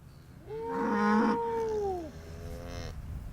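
Beef cattle moo in one long, loud, drawn-out call close by, rising and then falling away, followed by a fainter second low call, with nothing else heard.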